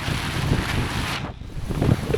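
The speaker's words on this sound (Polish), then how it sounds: "Ach, cholera jest, ale wiatr. O, tajfun faktycznie idzie." Strong gusting wind ahead of an approaching typhoon in Fukuoka, Japan, roaring loud and close into the microphone with broadband buffeting that dips briefly midway and then surges back.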